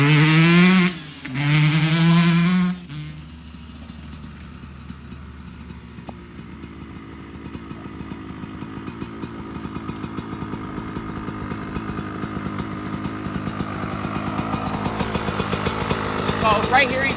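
A 2024 Yamaha YZ125 two-stroke dirt bike with jetting problems idles steadily and close by, a rapid buzzing putter that runs evenly after someone speaks briefly at the start.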